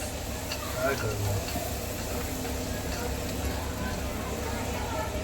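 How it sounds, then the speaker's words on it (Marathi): Puris deep-frying in hot oil give a steady, dense sizzle throughout, with a voice talking over the frying. "हे फटाफट पुऱ्या करून घेते आणि आणि फटाफट तळून घेतो"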